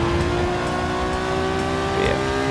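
A Group 4 race car in Gran Turismo 7 during a daily online race, its engine droning loud and steady with a rising rev near the end, close up and continuous with no talk.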